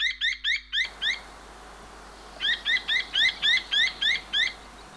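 Little owl calls, a bird of open countryside: a series of short, evenly spaced high chirping notes in a quick burst, a pause, then a longer run of similar rhythmic calls over faint background hiss.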